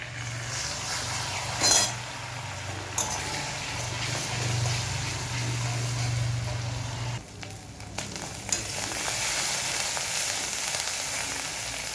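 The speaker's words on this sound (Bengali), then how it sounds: "এবারে পেঁয়াজ দিয়ে পেঁয়াজটাকে ভেজে নেব।" Onions frying in oil left from frying fish for prawn malai curry: a steady, moderately loud sizzle runs throughout, over a low hum, with a few clinks of a utensil on the pan.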